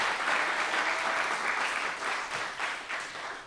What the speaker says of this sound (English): Go ahead and clap if you caught that